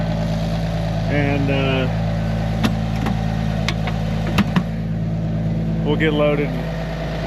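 Tractor engine idling nearby with a steady low throb and hum, while a person talks briefly over it and a few sharp clicks and knocks sound.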